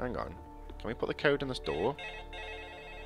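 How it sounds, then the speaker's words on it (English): A phone alarm rings with steady tonal chimes, fairly loud and close, continuing under a man's speech and then sounding alone. "My alarm's just going off on my phone."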